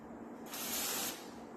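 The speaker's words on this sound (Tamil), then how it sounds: "தூரத்தில் தான் ஸ்ப்ரே பண்ணோம்." Aerosol chain lube sprayed onto a rusty bicycle chain, one short hissing burst of about half a second, faint and alone against a quiet background.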